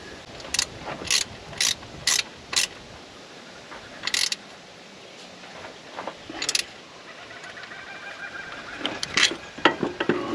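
A hand ratchet tightening the lower alternator mount on an 80 Series Landcruiser, with a run of quick clicking bursts, a pause, then more scattered ratchet clicks close to the microphone.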